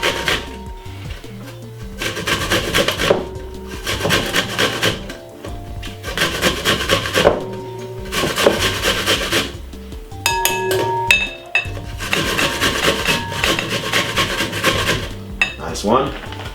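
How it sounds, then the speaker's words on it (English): A red apple being grated in a salad kitchen, with repeated rough rasping strokes in bursts and short pauses, close and fairly loud. "Grate it."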